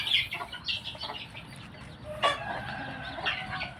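A young rooster gives a few short, scattered clucks close by against quiet farmyard background noise.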